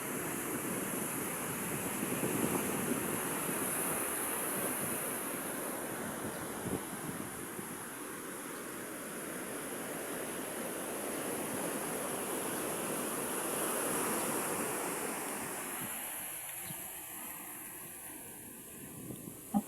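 Strong sea waves surge against the shore, a continuous roaring wash of surf mixed with wind, moderately loud with gentle swells in intensity and no voices.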